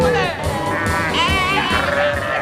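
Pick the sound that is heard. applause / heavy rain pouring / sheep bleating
sheep bleating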